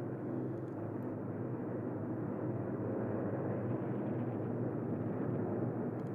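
A B-17 Flying Fortress bomber drones steadily with a dense, even roar of piston engines, continuous and unbroken with no voices.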